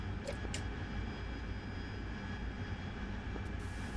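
Harrier jet engine in a flight video game drones as a faint, steady whine and rumble, with a couple of brief higher clicks over the constant hum and no speech.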